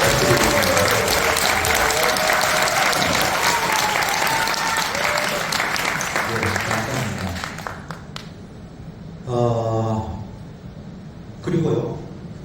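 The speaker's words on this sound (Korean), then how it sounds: "박수 한번 부탁드립니다." Audience at a Korean product launch event applauding the staff, dense steady clapping for about eight seconds before thinning out, followed by brief bursts of someone speaking over a quiet room.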